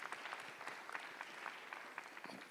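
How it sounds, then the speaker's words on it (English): Sparse, fairly faint clapping from a small audience at a school board meeting, individual claps distinct and uneven rather than a full roar. "If we can give them another round of applause"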